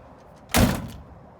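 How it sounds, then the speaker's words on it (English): A single solid car door thunk from a 1956 Chevrolet 210 Coupe, close and clean, with a short dull resonance fading out in a quiet room. "Door shuts nice."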